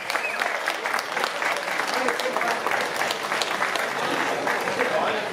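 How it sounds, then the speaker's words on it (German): A crowd at a professional boxing event in an Essen arena applauds the two fighters after a first-round knockout, a continuous, even roar of clapping throughout with faint voices mixed in. "Applaus nochmal für die beiden Fighter"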